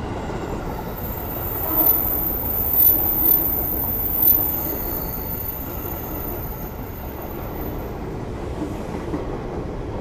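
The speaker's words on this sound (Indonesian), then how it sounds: "Yang akan segera masuk di jalur 4 adalah rangkaian kereta api Argo Cirebon" Argo Cirebon executive train pulling into platform 4 at an Indonesian station, a steady low rumble of rolling wagons with a few brief metallic wheel squeals, continuous and fairly close, no voices.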